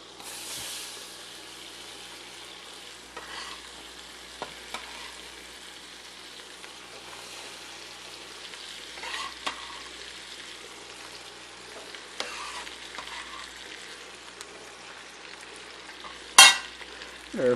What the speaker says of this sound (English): we're going to get our onions in there and get them cooking.